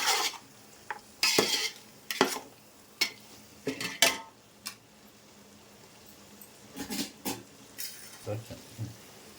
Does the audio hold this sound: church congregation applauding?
no